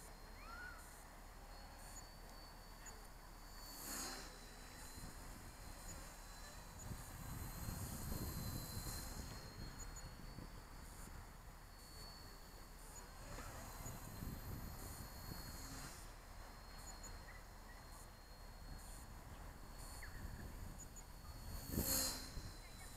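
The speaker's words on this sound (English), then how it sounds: "this is your little chopper, mate. Flying lovely." A small RC toy helicopter (XK K124) rotor buzzes faintly and steadily at a distance, a thin whirring hum that drifts slightly in pitch amid quiet outdoor background.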